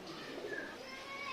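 Imported Teddy high-flying pigeons give a short, soft cooing call at close range, over a faint background hum.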